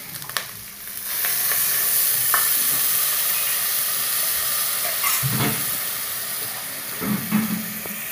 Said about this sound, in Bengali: এবার পরিমাণ মতন জল দেবো